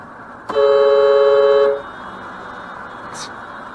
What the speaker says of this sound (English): Finally get to use my air horn.